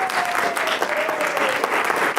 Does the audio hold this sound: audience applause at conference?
yes